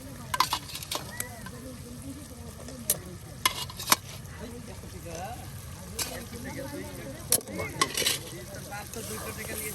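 Beef pieces go into a pan of spices being fried beside a riverbank and are stirred, giving a soft sizzle with scattered scraping clicks at moderate distance while a person talks over it.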